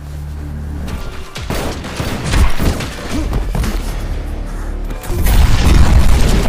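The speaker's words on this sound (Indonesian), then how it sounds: "Namun sayangnya Nico sempat tertembak" Loud bursts of gunfire and heavy booming impacts from a shootout in an action film, dense and continuous with a sharper flurry near the end, no talk.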